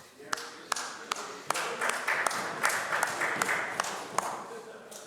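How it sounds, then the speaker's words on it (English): Scattered clapping rises in a legislative chamber during question period, with sharp individual claps standing out over a steady patter of applause from the members. "I'm overwhelmed every time I hear that clapping"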